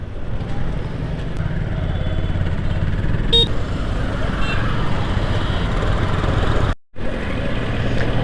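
Steady road noise from a moving motorcycle in traffic, with wind rumble and engine drone throughout, and a brief dropout near the end.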